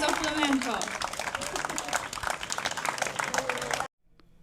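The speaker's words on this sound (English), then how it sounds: "Let's give an applause to this beautiful, beautiful performance of flamenco." An audience applauds after a flamenco performance at a chess festival in Sitges, a dense, loud burst of clapping that carries on steadily before cutting off abruptly near the end.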